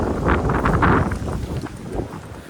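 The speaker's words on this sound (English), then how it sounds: "The wind's back." Strong wind gusts roar across the microphone on the Appalachian Trail in Shenandoah, a loud, steady rushing buffet that swells and eases without pause.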